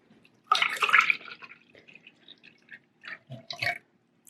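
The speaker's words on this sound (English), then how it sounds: "Okay, Ben, we're going to put the 2 cups of milk inside here." Two cups of milk poured into a frother and whipped cream maker for frozen hot chocolate, heard as a short close splash followed by irregular drips and trickles, quiet and alone.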